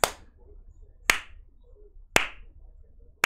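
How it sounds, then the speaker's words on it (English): Slow, deliberate hand claps, four sharp claps spaced about a second apart, echoing slightly in a quiet space. "you hear behind you a very slow clap."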